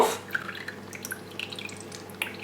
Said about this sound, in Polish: Przecieka mi trochę tutaj ten